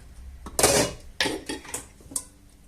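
A metal deep frying pan clanks and scrapes close by on a stove, a few sharp knocks and rattles as it is moved and set down.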